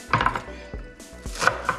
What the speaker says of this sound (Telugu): ఇలా కొంచెం కట్ చేసేసుకొని ఇది ఒక పక్కన పెట్టేసుకుందాం